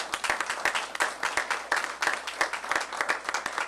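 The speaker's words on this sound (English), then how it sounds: "give them a round of applause" Audience applause for forensic sciences department staff at a mayoral announcement event, a few people clapping in a steady, fairly sparse patter that stays moderately loud throughout.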